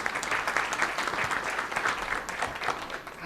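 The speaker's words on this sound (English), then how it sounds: "Can we have a round of applause for Mr. Baum, please?" Audience applause at a 2015 panel discussion event, a dense, steady wash of many hands clapping at moderate loudness throughout, with no talk over it.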